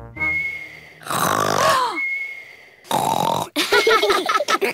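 A cartoon pig, Daddy Pig from Peppa Pig, imitates loud snoring with long, exaggerated snorts and whistling breaths, several in a row, loud and close with no talk.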